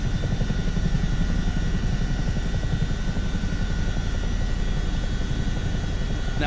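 A CH-47D Chinook helicopter in the flight simulator game MSFS 2024 gives a steady, loud, dense engine and rotor drone that holds unchanged throughout with no voices over it.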